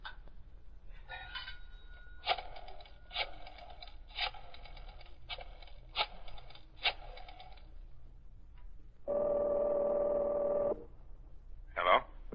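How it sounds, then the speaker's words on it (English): Telephone being dialed in an old radio drama, a series of evenly spaced rotary clicks and rattles followed by a loud steady ringing tone, then a brief second ring burst. "On the way, Britt Reed stopped to make a phone call"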